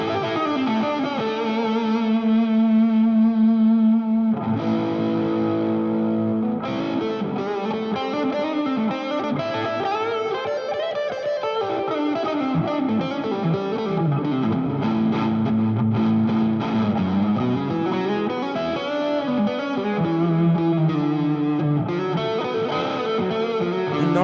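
Nectar Overdrive guitar pedal driving an electric guitar, gnarly yet creamy overdriven tone, sustained notes and bends flowing into chords, steady and fairly loud throughout with no talking.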